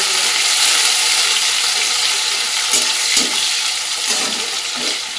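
Onions dropped into hot oil already frying whole cumin seeds and two bay leaves, a loud, dense, continuous sizzle with a few stirring scrapes near the end, no talking.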